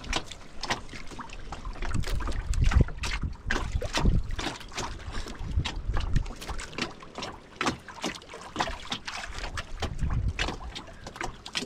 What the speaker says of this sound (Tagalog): Grabing hangin.